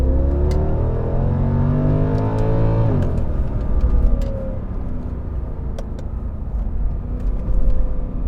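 A 2010 Mercedes S63 AMG drives with a steady engine rumble, and its revs climb and then drop sharply at a slow automatic gearshift around three seconds in. The engine pulls again afterwards and a second smaller shift follows.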